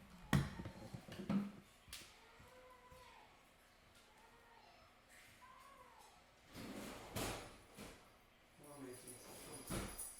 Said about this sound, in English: I'm opening the door for our dog here.